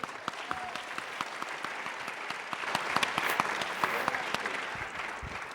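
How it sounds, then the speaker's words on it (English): An audience at a talk on social media and knowing your rights breaks into steady applause, a dense, sustained clapping from a crowd filling a hall, with a few louder claps standing out. "Give a round of applause for Jared."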